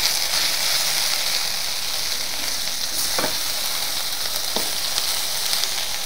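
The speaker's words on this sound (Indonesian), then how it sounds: "Kita tumis semuanya" Bean sprouts stir-fried in a pan give a loud, even frying sizzle that runs unbroken, with two or three brief clacks of a spatula against the pan.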